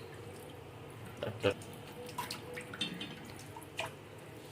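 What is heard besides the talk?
leaves being washed under running water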